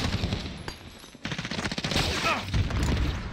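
Rapid automatic gunfire crackles in a Modern Warfare multiplayer match, dense overlapping bursts mixed with in-game effects and a brief voice line underneath.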